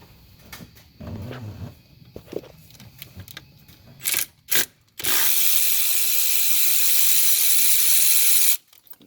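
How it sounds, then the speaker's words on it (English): Wrench work on Chevy LS valve cover bolts with an 8mm wrench, close clicks and short ratcheting bursts, then a long steady buzzing rattle of a ratchet spinning. "So now with the 8mm, get those bolts loose."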